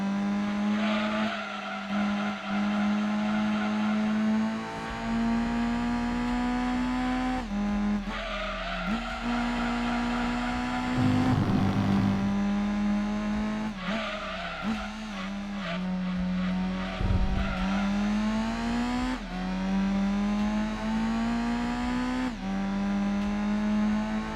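Race car engine droning steadily through laps in the PlayStation game Gran Turismo 2, a tuned naturally aspirated car in a cup race, with shifting pitch as it accelerates and brakes and occasional tire squeal and skidding, loud and continuous with no talk.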